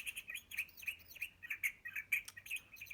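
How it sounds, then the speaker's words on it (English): A pair of birds chirps in a storybook sound effect, quick bright tweets repeating in a steady run as they fly past, fairly close and alone over faint low background noise. "a pair of birds flew by chirping"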